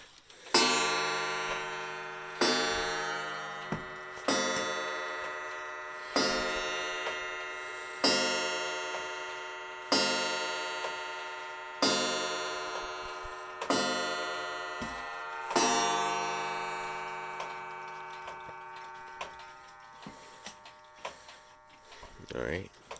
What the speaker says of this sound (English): This one has a chime that sounds a little bit like this.